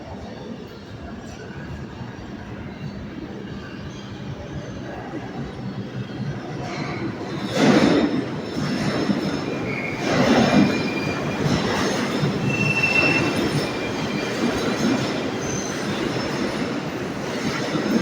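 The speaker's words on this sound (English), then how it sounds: "here comes the train." A subway train pulls into a New York station with rising rumble, squealing wheels and rattling cars, growing louder from midway and staying loud to the end.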